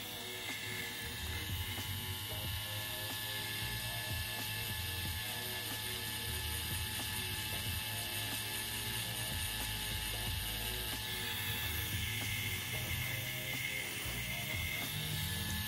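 A tattoo machine being tuned for shading work on real skin runs steadily and continuously, a close mechanical buzz with fine ratcheting texture and no talk over it.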